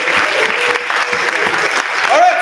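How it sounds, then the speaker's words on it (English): Audience at a choir rehearsal gives a round of applause, dense steady clapping that stays loud and close for the whole stretch, with a voice faintly audible at the end. "Give her a round of applause."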